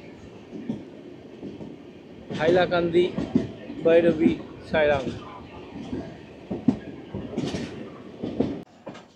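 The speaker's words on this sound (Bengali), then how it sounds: "ট্রেনটি বদরপুর জংশন ছেড়ে" A passenger train leaving Badarpur Junction rolls along the rails with a steady rumble and rhythmic clacking, heard from inside under a voice speaking through much of it.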